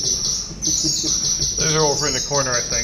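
Bird call effect on a pipe organ, a stream of high chirping trills running continuously, with someone talking over the second half.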